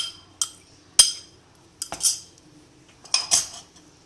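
Shredded boiled chicken being mixed into a Russian salad with a utensil, producing several sharp metallic clinks and scrapes against a bowl, spaced irregularly with quiet gaps between.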